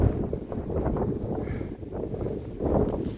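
Strong wind buffeting the microphone in a steady low rumble with gusty swells, no voices.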